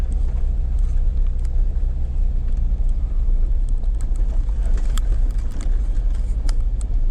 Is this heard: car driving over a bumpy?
yes